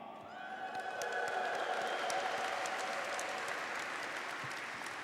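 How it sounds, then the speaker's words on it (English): An audience in San Francisco City Hall at a Latino Heritage Month celebration applauds after a Grupo Aranero Mayab performance, a steady, fairly distant wash of clapping with light cheering that swells and slowly fades. "We want another big round of applause, please, to Grupo Aranero Mayab for that beautiful and energetic performance that we heard tonight."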